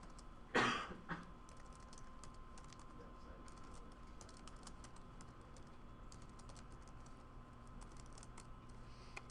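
Java code being typed on a computer keyboard, quiet rapid clicking keystrokes throughout, with a short cough or throat clear near the start.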